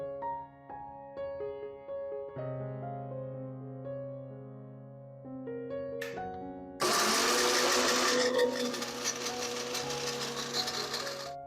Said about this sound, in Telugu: ఇవన్నీ కూడా మీరు మిక్సీ పట్టుకోవాలి, పేస్ట్ మాదిరిగా మిక్సీ పట్టుకోండి.